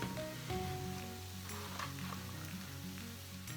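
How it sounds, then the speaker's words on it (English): Zucchini hitting a hot pan of softened onions gives a steady, close broadband sizzle of frying vegetables, with a few scrapes and stirring clatters breaking in over the continuous hiss. "we're going to add all of this zucchini into the pan"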